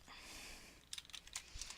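Computer keyboard typing, a short quick burst of light clicking keystrokes following a quiet stretch, close and faint with no talk.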